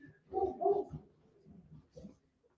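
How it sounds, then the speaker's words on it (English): Several dogs barking frantically downstairs in a home during a live basketball watch party, a burst of a few loud barks followed by softer scattered yips and woofs, somewhat muffled by distance. "Dogs downstairs going crazy."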